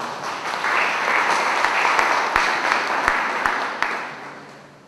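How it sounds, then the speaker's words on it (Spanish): An audience in a civil procedure lecture session gives a steady round of applause to welcome the lecturer, close and sustained throughout, with a few sharp individual claps standing out. "Recibimos con un fuerte aplauso"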